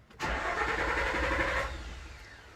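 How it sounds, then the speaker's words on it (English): A Nissan Xterra engine cranking during a flood start, the starter whirring steadily for about a second and a half close by and fairly loud, then cutting off without the engine catching. "The car is just going to crank and crank and crank and not start."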